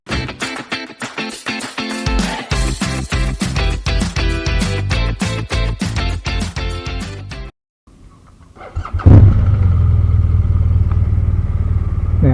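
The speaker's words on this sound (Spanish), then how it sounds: "así que arrancamos la moto y vamos allá" A motorcycle engine revving in rapid bursts, briefly cutting out, then restarting and settling into a loud, steady running drone.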